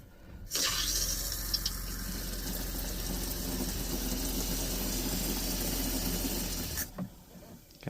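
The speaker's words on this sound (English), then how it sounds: "we are going to also be pouring more directly into the drain" Antifreeze pours from a gallon jug directly into an RV drain during winterizing, a steady gurgling rush of liquid that runs for several seconds at an even level before cutting off.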